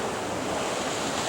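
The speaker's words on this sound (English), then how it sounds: "I'm gonna watch them sneaker waves." Steady roar of ocean surf washing in on the shore at Molokai, Hawaii, a dense continuous wash of water noise with wind rumbling across the microphone, no voices.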